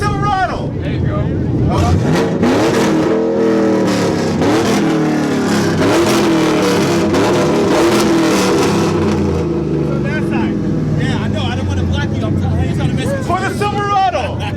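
Chevrolet Silverado V8 roaring off the line at a Racewars drag event, engine revving hard and loud for a long stretch with rising pitch sweeps, crowd chatter and shouting around it.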